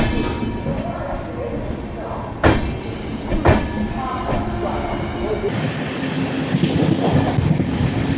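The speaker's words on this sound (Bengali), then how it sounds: "আমাদের ট্রেন 8 মিনিট হল্ট করে সামনের দিকে এগিয়ে চলছে" A moving Amrit Bharat passenger train on the Sealdah–Benaras route rumbles steadily with rhythmic clacking and a couple of sharp knocks, the rail noise continuous and fairly close.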